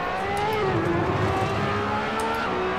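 A race car engine in the Assetto Corsa racing game drones loud and steady, its pitch sliding slightly through the rev range as the car holds speed, with no voices.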